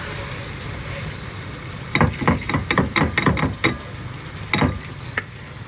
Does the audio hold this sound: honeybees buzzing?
no